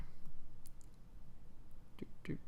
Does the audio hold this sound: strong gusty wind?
no